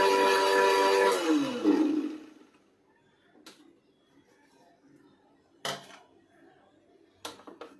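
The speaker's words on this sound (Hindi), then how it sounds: "इसको आप मिक्सी जार में डाल के अच्छे से इसका पाउडर कर लेना है" A kitchen mixer grinder powders Oreo biscuits in its jar. It whirs loudly for about two seconds and then winds down, followed by quiet stretches broken by a few sharp knocks and clatters.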